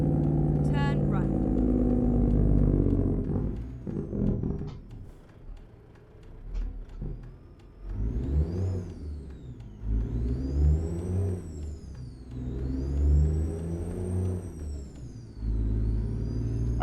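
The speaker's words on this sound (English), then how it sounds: "see if the engine in my Freightliner sounded like this or not" A Freightliner Argosy truck engine in American Truck Simulator, heard idling and then revving up repeatedly with rising whines, moderately loud under someone talking at the start and between revs.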